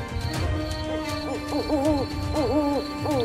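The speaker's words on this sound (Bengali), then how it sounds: "বাড়ির ছাদ থেকে কালো পেঁচার ডাক শুনতে পেলাম।" A black owl hoots at night from a rooftop in a village horror tale, with repeated wavering calls in short bursts close by over a steady background hiss.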